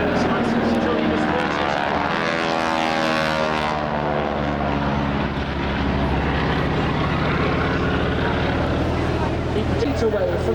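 Propeller aircraft flying overhead at the Clacton Air Show, a loud, continuous drone of engine and airscrew that stays steady throughout, with a slight swell in the middle.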